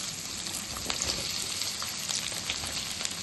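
Cut okra pieces sizzle and fry in a hot tempering of oil with dried red chillies and curry leaves, a dense, steady, close crackle with small pops throughout.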